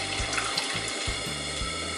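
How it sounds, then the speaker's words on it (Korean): Water pours steadily into a pot to make kelp broth for a spicy dumpling hotpot, giving a continuous close splashing stream with rhythmic gurgling pulses. "물 붓고 다시마 육수만 낼 거예요."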